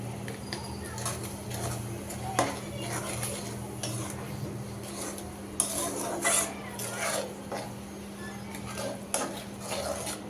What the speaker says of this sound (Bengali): মশলাটা আমি তেলের মধ্যে ভেজে নিচ্ছি, কষিয়ে নিচ্ছি ভালোভাবে।